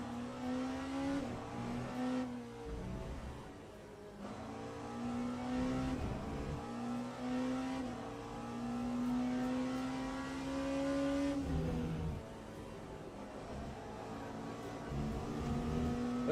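A race car's engine in the sim racing game Le Mans Ultimate at Spa holds a loud steady whine, dipping with gear shifts and braking before climbing again, heard alone.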